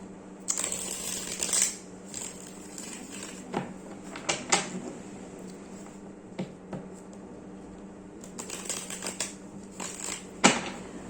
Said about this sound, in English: I'm gonna shuffle until it gets over an hour